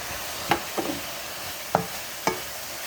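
Beef added back into a skillet for a Moroccan beef and sweet potato tagine, a soft steady sizzle under a few distinct scraping stirs of a utensil against the pan, close and moderately quiet.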